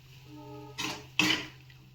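A fried soybean mixture is tipped into a pressure cooker with two quick clattering scrapes of metal on metal, close and fairly loud over a low steady hum from the stove.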